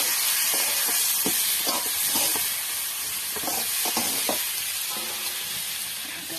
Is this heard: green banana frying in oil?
yes